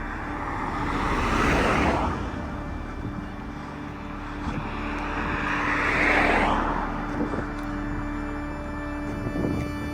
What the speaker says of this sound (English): This is a busy road.